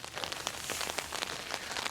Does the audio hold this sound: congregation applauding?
no